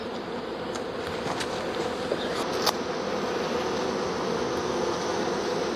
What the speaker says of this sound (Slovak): Tak takto vlastne vyzerajú naše včely slovenské.